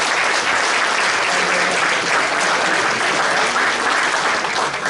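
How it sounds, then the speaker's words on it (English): A seated audience at a historical society annual meeting applauds the deputy mayor with steady, dense clapping from start to finish. "please give a round of applause to the Deputy Mayor"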